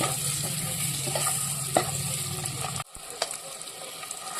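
Eggs fry in leftover oil over a medium flame for an egg gravy, hissing steadily with a couple of utensil knocks. The sizzle suddenly drops quieter partway through, then resumes more faintly.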